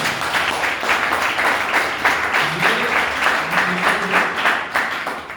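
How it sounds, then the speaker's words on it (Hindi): Loud, sustained applause from an audience at a training seminar, rhythmic clapping pulsing steadily and near, with a faint voice murmuring underneath. "मैं चाहूंगा जोरदार ताली नीचे मिसेस स्मृति ईरानी के लिए।"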